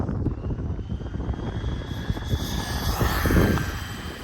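Rlarrlo AM-D12 RC car running flat out outdoors, a steady high-pitched motor whine with wind and rushing noise that swells in intensity toward the end, with no talking.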